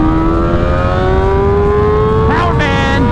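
A Kawasaki ZX6R 600cc sport bike accelerates hard in second gear, its close, loud engine whine climbing steadily in pitch, with a brief voice-like warble near the end.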